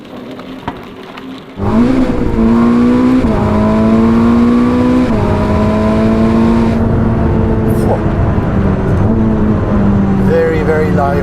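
A Ferrari SF90 engine starts and revs loud and near, its pitch climbing and easing in repeated sweeps, with some talk around it.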